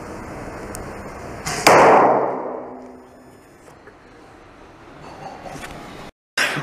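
An arrow strikes a pressurized bottle: a sharp, loud burst hits suddenly and decays into a hissing rush, followed by quieter rustling and a second abrupt noise at the end.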